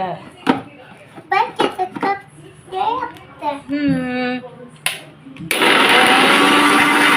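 A blender whirs loudly and steadily through the final stretch, grinding strawberries with milk for a strawberry shake, after a child and an adult talk over clinks and handling noises in a home kitchen.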